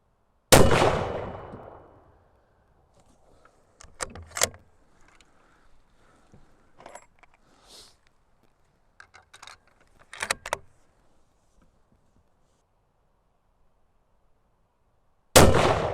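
A Fierce Firearms rifle fires a three-shot group, the sharp loud reports spaced seconds apart with faint clatter and small handling noises between them.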